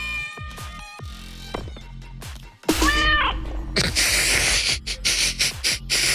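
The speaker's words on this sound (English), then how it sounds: "I'll just use the other cat sound." Loud, drawn-out cat meow and yowl sound effects played in a DAW, one rising and bending in pitch, followed by a harsh noisy burst with choppy hiss-like textures.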